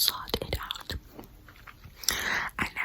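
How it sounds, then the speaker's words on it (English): Gum is chewed very close to the microphone, with soft wet smacks and clicks repeating irregularly under a whispering voice in a relaxed, intimate setting. "sought out gum chewing specifically, typed it into the search box."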